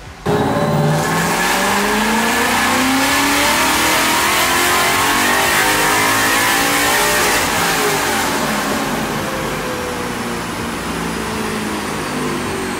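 A Coyote-swapped New Edge Ford Mustang drift car engine revs hard on a dyno, holding at high rpm for several seconds toward the rev limiter, a loud sustained roar with shifting pitch that gradually eases off.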